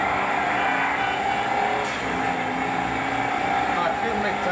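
A Beefcake Super Duty truck in GTA V, its engine a steady, loud broadband roar that holds throughout with little change, and a voice talking over it.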